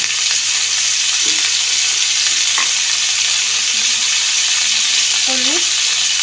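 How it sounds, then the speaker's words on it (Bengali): Ridge gourd stirred and fried in a pan, a loud continuous hiss of sizzling oil with a few scrapes of the spatula. "ঝিঙেটা দিয়ে একটুখানি নেড়ে নেবো।"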